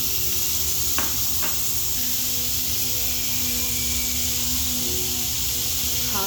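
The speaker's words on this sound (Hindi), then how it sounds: "पैन लिया, पैन में तेल डाला, प्याज डाल दिया, चॉप किया हुआ।" Chopped onion and tomato frying in oil in a home pan, giving a steady bright sizzle throughout with a couple of faint clinks near the start.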